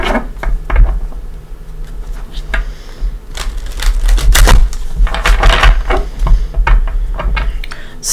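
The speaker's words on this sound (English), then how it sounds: "I'm going to go ahead and give it a shuffle or two." Tarot cards are shuffled in close, loud bursts of rapid riffling and slapping, with irregular crisp clicks and rustles from the deck through the stretch and no voice.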